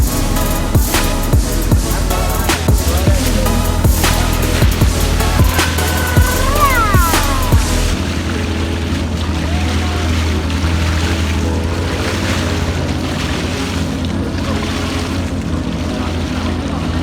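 A boat cruises across a clear, clean lake, its engine droning loudly and steadily under a constant wash of water and wind. A few faint tonal chirps rise over it early on before the noise settles.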